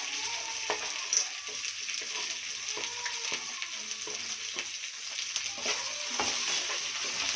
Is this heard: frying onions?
yes